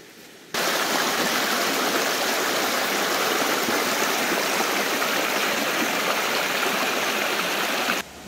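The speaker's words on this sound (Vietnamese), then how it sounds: "em đang lội dọc theo con suối này" Forest stream flowing in a steady, loud rushing wash of water that starts and stops abruptly, close by and with no voices.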